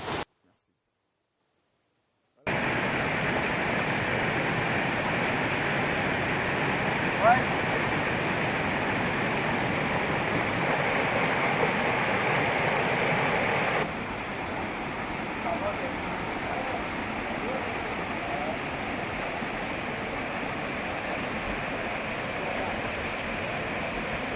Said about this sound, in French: vous avez cette cascade-là à votre disposition